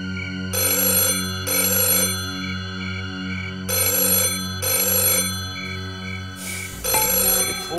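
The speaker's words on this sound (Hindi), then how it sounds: "एक ठो फोन में चार गो आवाज आता है, मेरे को लगा कि अस्पी साहब का फोन है" A telephone rings in repeated electronic bursts of bright tones over a steady humming backdrop, several rings in a row, loud and close with no talking.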